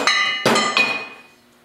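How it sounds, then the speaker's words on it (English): Drilling into a wooden basement beam to fix metal straps, heard as three sharp, close impacts with ringing metallic overtones that decay quickly, the first two loud and the third slightly softer, with no talk. "drill a couple of holes here."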